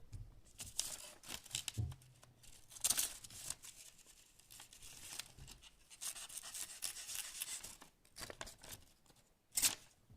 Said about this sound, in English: Now it only tears the paper on top, but if you get the blade to bite, as you can see, the cut itself is pretty clean.